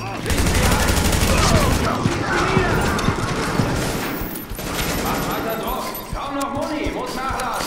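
Shotgun fire in the video game The Division during a fight at the Russian consulate: loud, dense blasts and clattering impacts run almost nonstop, while people talk excitedly over the shooting.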